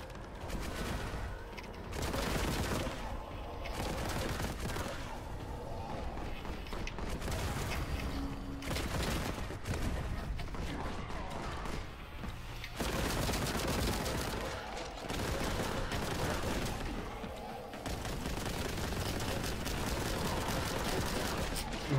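Rapid, sustained gunfire from the Kraken bolt gun in Warhammer 40,000: Boltgun, with dense bursts of heavy shots and booming impacts that barely let up, broken by a few short pauses.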